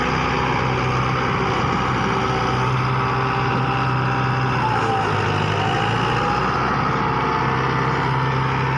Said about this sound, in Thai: วันนี้เรามาดูรถไถคูโบตานะครับ ดันดินผมนะครับแบบสบายๆนะครับ